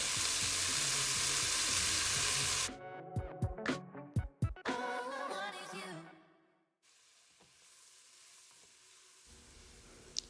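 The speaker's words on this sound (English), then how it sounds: "Just give all of the vegetables a good stir and then let that cook for about 5 minutes" Vegetables and minced garlic sizzle loudly in a cast iron pot for chicken noodle soup, with a few sharp stirring knocks and scrapes in the middle before the frying settles to a quieter, steady hiss.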